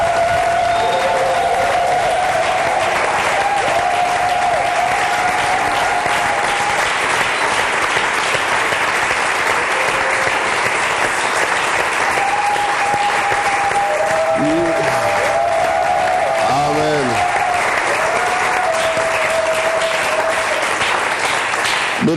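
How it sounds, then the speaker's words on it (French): A church congregation applauds and cheers loudly and without a break, a thick wall of clapping with raised voices and sung tones rising through it now and then. "Nous commençons toujours par des acclamations"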